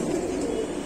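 Pigeons cooing among a flock of high-flying birds at a pigeon sale, a steady low murmur of overlapping coos throughout, fairly close and continuous with no talk.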